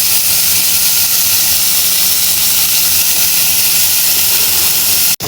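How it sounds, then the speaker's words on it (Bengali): Round slices of bitter gourd fry in a little oil, giving a loud, even hiss that runs unbroken and then cuts off abruptly at the very end. "এই যে করলাগুলো ভাজা হচ্ছে"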